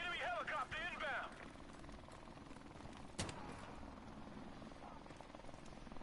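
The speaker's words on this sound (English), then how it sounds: "Enemy helicopter inbound." An enemy helicopter in the video game Call of Duty 4 thrums steadily with rotor chop throughout, under game chatter and a sharp gunshot-like crack.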